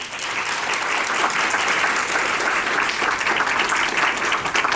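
An audience bursts into sustained, dense applause after a speaker introduces attorney Angelo Pinto at a university event, the clapping steady and loud throughout with a faint crowd murmur beneath.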